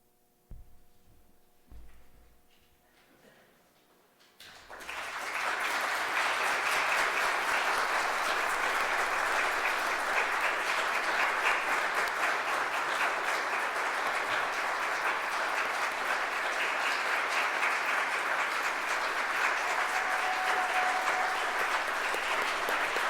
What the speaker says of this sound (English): No, we weren't expecting applause.